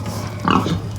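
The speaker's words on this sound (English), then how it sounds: "Come on, pigs!" Farm pigs, being called in with food for penning, give a short grunting oink close by over low background noise.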